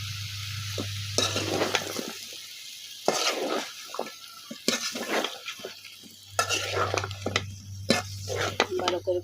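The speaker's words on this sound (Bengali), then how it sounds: "ভালো করে কষিয়ে নিব," Radish being sautéed in a cooked spice paste over a village kitchen fire, with repeated scraping strokes of a spatula against the pan over a steady sizzle and a low hum.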